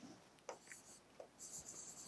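Chalk or marker strokes on a board during a maths lecture, a few short faint scratches and taps spread over two seconds with quiet room tone around them.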